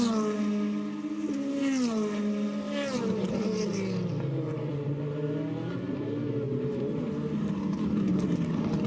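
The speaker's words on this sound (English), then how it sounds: "So the cars under braking through the NGK chicane." DTM race cars in the rain at the Nürburgring braking through the NGK chicane, engines howling and dropping pitch through downshifts, several cars overlapping, loud and continuous.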